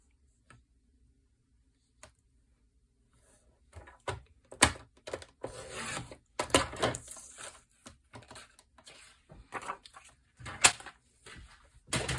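A trimmer cuts through a sheet of vellum paper for a card front, heard as a series of quiet, close clicks and short slicing strokes after a nearly silent start.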